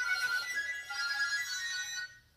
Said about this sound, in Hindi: रिजवी सर का फोन